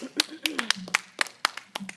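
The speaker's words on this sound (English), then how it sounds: "Let's give a round of applause." Scattered clapping from a small audience after a high school debate speech, a few uneven hand claps over about two seconds with some voices mixed in.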